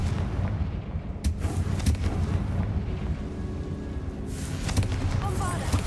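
Confringo fire spell blasts go off in Hogwarts Legacy, a string of booming explosive bursts over rumbling game sound, with several sharp cracks spread through it and no talk.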